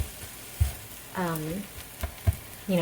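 Slices of Oscar Mayer smoked ham fry in a pan with a soft, steady sizzle, broken by a few clunks of a utensil and someone talking over it.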